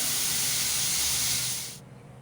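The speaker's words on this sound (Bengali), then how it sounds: "লাউর খোসাটা ভাজতে ভাজতে কালারটা চেঞ্জ হয়ে যাচ্ছে" Bottle gourd peel frying in a pan gives a loud, steady broadband sizzle that runs close and continuous, then drops off sharply near the end, leaving a faint low hum.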